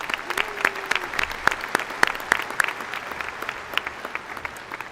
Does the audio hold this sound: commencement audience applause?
yes